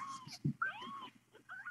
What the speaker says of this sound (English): Hi, adorable kittens.